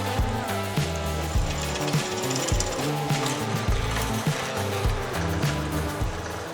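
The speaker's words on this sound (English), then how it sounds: "Now we're gonna drill press them." A drill press boring through steel hoop irons in a garage, a loud continuous grinding with a rough, pulsing mechanical rattle throughout, close to the microphone and without talk.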